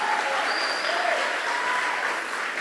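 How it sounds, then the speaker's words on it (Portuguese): A church congregation applauds loudly and continuously, with cheering voices and shouts mixed into the dense clapping. "Se você é livre, aplauda Ele e libere um grito de liberdade"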